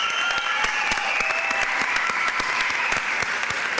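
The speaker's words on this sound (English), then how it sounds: "Can we give the 2015 graduates another round of applause?" Steady, dense applause from a large crowd at a high school graduation ceremony, many hands clapping continuously at full volume throughout with a few sharper claps standing out.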